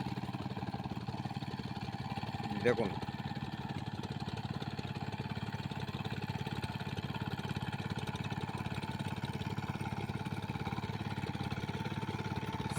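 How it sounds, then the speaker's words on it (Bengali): A seven horsepower mini power tiller ploughs a waterlogged, muddy field, its small engine droning steadily and fairly faint throughout, with a single brief spoken word early on. "সেভেন হর্স পাওয়ারের এক মিনি পাওয়ার টিলার"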